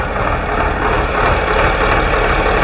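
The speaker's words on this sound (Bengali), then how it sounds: "এই হচ্ছে ইঞ্জিন ঘর" A riverboat's ship engine runs inside the engine room on a Sundarbans cruise, a loud, steady, dense mechanical roar and hum with no break, heard up close.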